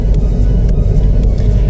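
Alfa Romeo diesel car climbing mountain hairpins on the Stelvio Pass in the Alps, heard as a loud, close, steady engine rumble with road noise throughout.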